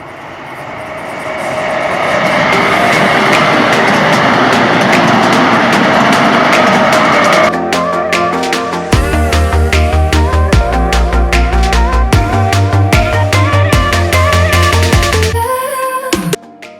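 A Skoda double-deck, dual-power electric intercity train passes nearby, a loud sustained roll that gives way to rapid rhythmic clacking of wheels over rail joints and a deep low hum toward the end, with no voices.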